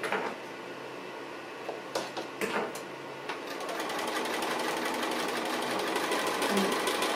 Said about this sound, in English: It's like drawing with the sewing machine.